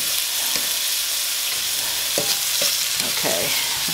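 Thin lo mein noodles fry and sizzle in a hot pan, a steady close hiss with occasional stirring scrapes and pops.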